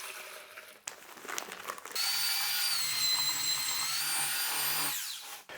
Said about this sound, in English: So we're gonna go ahead and mix a half a bag.